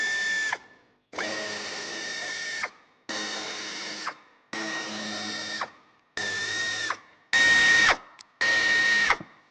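A cordless power tool loosens screws at the wheel arch of a 2019 Volkswagen Passat Alltrack B8, running in seven even bursts with brief gaps, steady whine up close, rising louder near the end.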